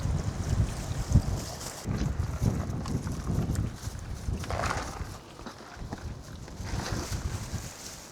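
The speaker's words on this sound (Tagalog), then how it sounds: "Parang may malakas na bagyo, ano? Iba yung hangin eh." Strong gusting typhoon wind buffets the microphone with low rumbling bursts that rise and fall, loud and rough throughout.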